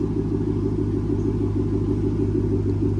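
Steady, close car exhaust rumble with a low droning tone, running through headers, catalytic converters up front and a mid muffler; even and not very loud throughout, with no talking.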